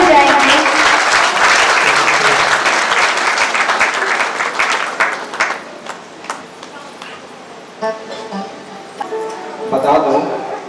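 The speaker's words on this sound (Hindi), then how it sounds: "ताली बजाएंगे।" Clapping fills a Good Friday church service: a dense, loud burst of audience applause that gradually thins and fades, with voices heard as it dies down.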